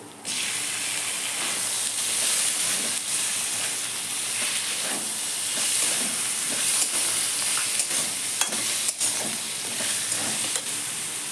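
Chicken pieces frying with ginger and garlic for street-style chowmein, a steady loud sizzle and hiss with occasional stirring scrapes that continue throughout, with no talking.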